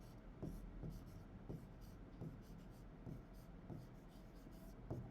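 Chalk or marker writing on a board during an accounting class, heard as a steady run of scratchy strokes with short repeated taps, fairly faint and continuous, with no talk over it.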